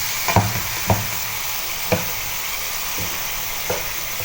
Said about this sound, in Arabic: هبدأ بقى اقلب الدجاج او الفراخ يعني مع البصل بقى والبهر بالشكل ده